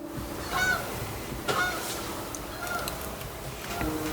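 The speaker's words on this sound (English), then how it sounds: "Is that a goose? Sounds like a goose. It's a goose." A goose at a backyard pond honks a few times, mid-distance and fairly faint, over a steady outdoor hiss.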